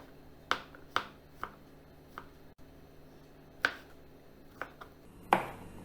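Kitchen knife cutting a clean white mushroom on a board: sparse, crisp individual chops spaced irregularly, close and fairly quiet, with no talking.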